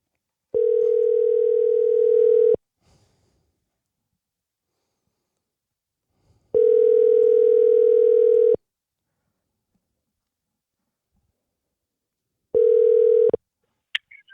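A phone call's ringback tone sounds three times, each steady two-second buzz separated by four-second gaps of near silence, ending with a faint click as the call connects.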